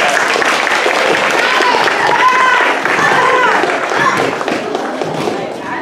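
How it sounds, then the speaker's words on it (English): Audience applause for a performer at a summer theater show, loud continuous clapping with cheers and whoops from the crowd throughout. "Big round of applause for Ellen"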